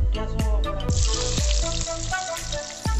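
Onions and whole spices fry in hot oil for a fish curry, a bright sizzle broken by repeated sharp clanks of a spoon or ladle against the pan in a rough rhythm.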